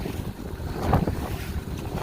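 Wind buffets a small fishing boat near the pier heads on Lake Michigan, a steady rushing roar with water slapping the hull, a brief louder gust in the middle of the short stretch.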